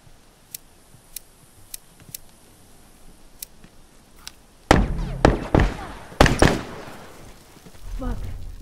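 A planted bomb in a The Last of Us multiplayer match ticks with sharp, evenly spaced beeps, then loud bursts of gunfire and impacts break out close by, with voices shouting over the action.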